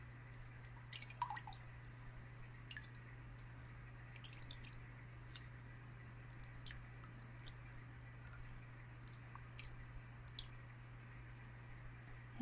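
Soft, close water sounds of small drips and wet squishes scattered over a steady low hum in a quiet ASMR setting, faint and irregular, with no talking.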